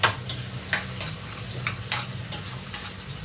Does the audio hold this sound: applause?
no